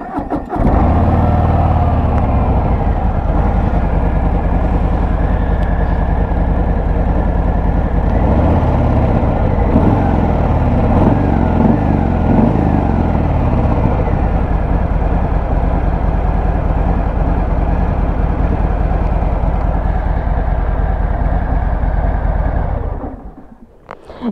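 Harley-Davidson Sport Glide motorcycle engine idling loud and close, a deep steady rumble held for over twenty seconds before it shuts off at the end.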